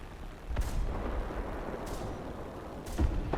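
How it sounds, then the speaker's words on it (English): Ammunition exploding on a tank in the video game War Thunder, heard as a few distant booming blasts spaced about a second apart over a continuous low rumble. "Yeah, ammunition exploded."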